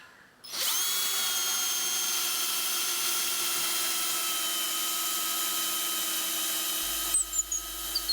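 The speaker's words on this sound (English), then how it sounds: "I'm switching the drill to low speed for this auger bit." Power drill running at low speed drives an auger bit into wood, a steady close whine with a faint high squeak near the end, heard alone.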